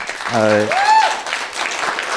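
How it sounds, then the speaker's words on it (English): An audience at a legal-trends panel starts applauding for the speakers while a voice talks over the beginning, clapping rising as a broad, moderately loud wash. "let's give a round of applause for"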